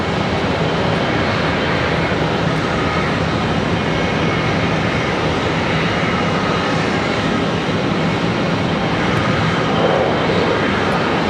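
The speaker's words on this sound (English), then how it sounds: "Got a pushback of an A321 right here in front of us." An Airbus A321 at Charlotte Douglas airport is pushed back with its jet engines running, giving a loud, steady broadband whine and roar that holds evenly throughout without any talk.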